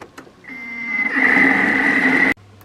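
A Thermomix kitchen machine heating at speed 2 and 90 degrees, starting with a couple of clicks, then a steady loud motor whine with a mechanical hum that cuts off abruptly.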